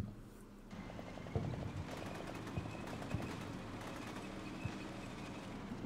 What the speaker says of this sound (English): That's the tank crew getting shot at. LAV crew, rather.